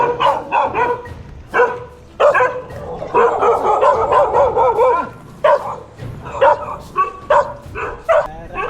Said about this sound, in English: Crazy dogs. Must be protective of their little area, territory